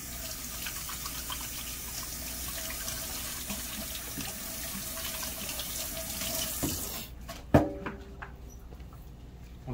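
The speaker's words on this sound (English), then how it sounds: "let me wash my hands" A kitchen tap runs steadily into a sink while hands are washed, a close continuous hiss that cuts off near the end, followed by a few sharp knocks and faint clatter.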